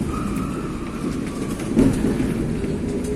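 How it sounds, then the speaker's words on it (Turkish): A tourist train rolls along on a city tour in Taksim, giving a steady rumbling drone with faint clattering, continuous and fairly close, with no talk. "Bugün yürümüyoruz, tren yürüyor."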